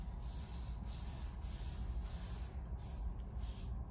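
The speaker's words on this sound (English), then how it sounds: "I'm going to add some more dry sand on top of our beach" Dry sand poured onto a small model beach, a soft hissing rush that comes in several faint waves over a low background rumble.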